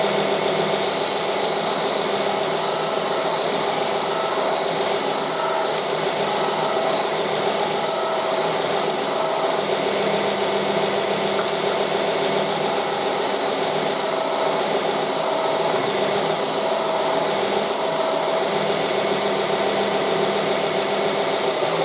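A mill cuts down a wooden pen blank fitted with a brass tube, giving a continuous, loud, bright grinding whine with slight rhythmic pulsing and no voices.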